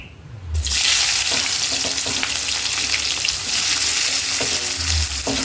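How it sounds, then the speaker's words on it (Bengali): Chopped onion hits hot oil in a wok already holding dried red chilli and cumin, bursting into a loud, continuous close sizzle with occasional stirring knocks, no speech. "পেঁয়াজটা একটু লাল লাল করে ভেজে নেব।"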